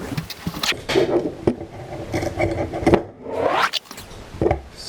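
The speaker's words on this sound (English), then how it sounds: "I'm using these dull tin snips just so I don't have to get out of my chair" Dull tin snips cutting material at close range: a run of scraping, crunching snips with irregular bursts and short pauses, heard alone with no voices.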